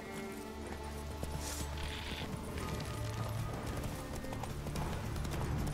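Horse hooves clip-clop at a steady gallop in The Witcher 3: Wild Hunt, a continuous rhythmic pounding over game music, with a brief whinny near the start.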